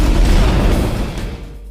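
Explosion from a rocket striking a container ship at sea, a loud deep boom and rumbling blast that fills the short stretch and then fades away.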